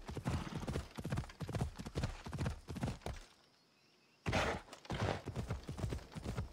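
Horse hooves in the video game Assassin's Creed Odyssey, a steady rhythmic clip-clop of a horse moving, loud and close, with a brief pause partway through before the hoofbeats resume.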